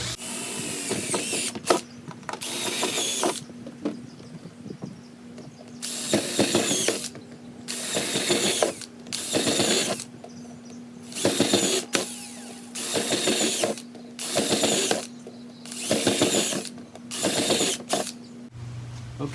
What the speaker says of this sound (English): get a long enough drill bit that'll go through all of them